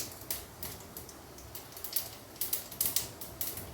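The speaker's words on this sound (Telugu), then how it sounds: "చూసారా చిటిపట్లాడుతున్నాయి" Rapid crackling and popping, a steady stream of small sharp snaps as cumin seeds and a dried red chilli sizzle in hot oil, close and continuous.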